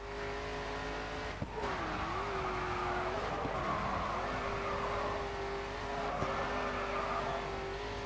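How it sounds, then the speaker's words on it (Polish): Racing game car engine from Grid 2 drones steadily throughout, with revs rising and falling and brief tire squeals during a face-off event against the Transamerica Pacers, loud and continuous with no talk. "Tym autem się świetnie jeździ w mieście"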